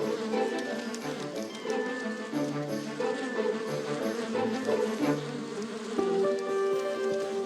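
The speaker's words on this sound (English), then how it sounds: "This returning bee has just found a new source of nectar and is going to tell others in the hive" Honeybees hum in the hive as one returning forager performs a waggle dance, a dense, steady, close buzz of many wings with a brief shift in pitch near the end.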